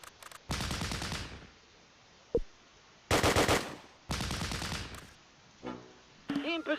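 MG42 machine gun firing in the video game Close Combat: Last Stand Arnhem, with several loud, rapid bursts separated by pauses, one single sharp crack between them, and a brief voice near the end.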